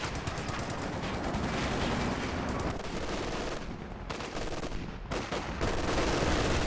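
Dense, sustained automatic gunfire in a Company of Heroes 2 2v2 match, likely an MG team opening up on paratroopers and Grenadiers, rattling continuously at steady loudness with brief dips, amid layered battlefield shooting.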